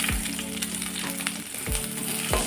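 Chopped shallots sizzle steadily in a pan while being prepared for rasam, with a few dull knocks and scrapes breaking through the continuous close frying hiss.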